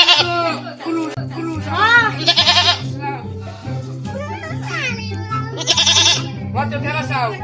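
Goats bleating repeatedly at a village goat sale, several loud wavering calls close by over continuous talk and background voices.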